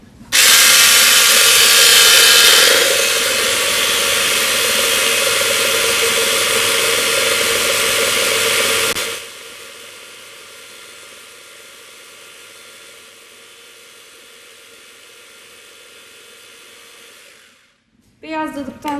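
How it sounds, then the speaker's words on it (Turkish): An electric mixer whisks egg whites with sugar in a loud, steady whir, then drops to a quieter hum for several seconds before stopping, with a short clatter at the end. "Şimdi bunları çırpacağım."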